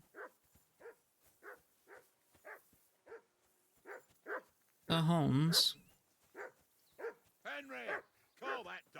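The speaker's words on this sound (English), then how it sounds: "Henry, call that dog to heel." In the Kingdom Come Deliverance 2 video game, a dog gives a long series of regular barks and yips, then a burst of louder whining, whimpering barks, with speech mixed in.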